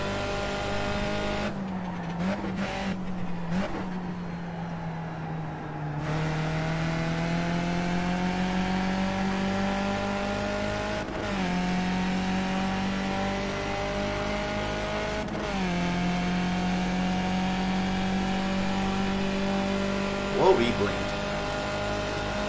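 A Skip Barber Formula 2000 race car screams through a three-car battle for second place, its engine droning loud and close with steady high revs, brief dips on downshifts and quick upshift cuts.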